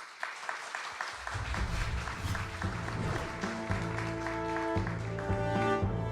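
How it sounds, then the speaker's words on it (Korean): Audience at a game-development audition event applauds a presenting team, a steady broadband wash of clapping rising after a second and sustained throughout, with a brief musical fanfare or stinger underneath. "큰 박수 부탁드립니다."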